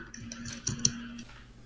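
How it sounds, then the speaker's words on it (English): Computer keyboard typing during a hectic online party game, a light patter of soft key clicks with a couple of sharper taps, fairly close and moderately quiet, with no talk over it. "I was typing"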